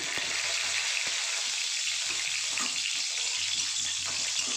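Close, steady sizzling and crackling of nigella seeds and green chillies frying in hot oil, continuous throughout with no talking.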